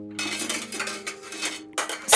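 Chopped vegetables for a vegetarian potée tumble and clatter into a metal cooking pot in a few quick bursts, with clinks of the pot and utensils, loud and close, ending in a sharper clatter.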